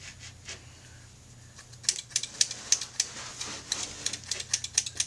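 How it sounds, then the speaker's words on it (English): Crisp snipping of thinning scissors cutting wig hair, a quick irregular run of close metallic snips after a quiet start over a low hum. "when cutting wigs, what you want to remember is that you're going to be using thinning scissors"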